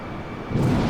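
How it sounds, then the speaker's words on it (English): Airbus A320neo landing on autopilot in Microsoft Flight Simulator 2020, heard from outside the aircraft: a steady broadband engine rumble that swells louder in the second half as the jet passes close. "You can watch the plane land and see how it does on autopilot."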